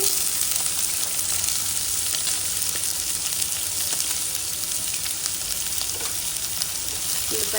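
Onions hit hot oil in a pan and give off a dense, even hiss of frying that holds steady and loud throughout, with faint scattered crackles and no voices.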